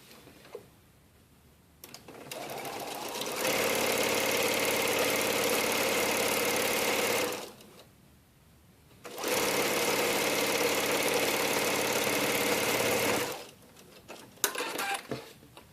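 A sewing machine stitches quilt pinwheel pieces in two long, loud, steady runs of even whirring, separated by a short pause, with quiet handling noises before and after.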